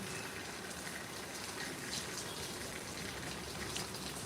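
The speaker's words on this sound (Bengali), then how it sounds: "জানিস আমাদের ব্যাঙ্গালোরে বৃষ্টি হচ্ছে এখন" Steady rain in Bangalore patters and hisses evenly throughout, a dense continuous wash of drops without any voices.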